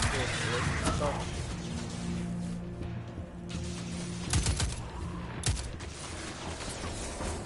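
Gunfire and weapon handling in Destiny 2: mechanical clicks and clacks with a few sharp shots standing out against steady game noise, under someone talking throughout.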